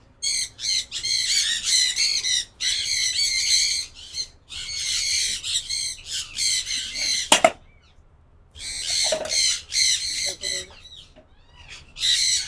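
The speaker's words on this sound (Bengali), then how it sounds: "ক্রিমসন রেড বেলির তারাকি আমার পছন্দের তালিকায় অন্যতম শীর্ষে থাকা পাখি" Crimson-bellied conures give harsh, loud squawks in repeated bursts, broken by a sudden flurry of wing flapping and brief quiet gaps, in an outdoor aviary.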